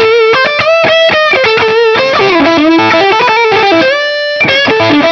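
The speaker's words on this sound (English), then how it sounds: "If you put on some distortion here," Distorted electric guitar playing a quick run of bright sustained notes and bends, loud and close, with a short held note near the end and no talking.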